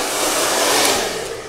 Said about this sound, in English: I will just hit the ends with the dryer